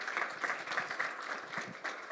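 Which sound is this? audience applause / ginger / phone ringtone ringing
audience applause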